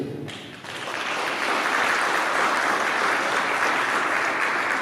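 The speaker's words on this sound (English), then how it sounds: "Let's give a warm round of applause to Dennis" A school audience claps for a guest on an educational tour, the applause swelling after a brief start and then sustaining as a full, even roar of many hands.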